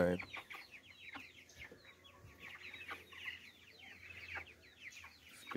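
Four-week-old common fowl chickens cluck and peep around a farm coop outdoors, a busy overlapping chatter of small calls at moderate distance, steady throughout.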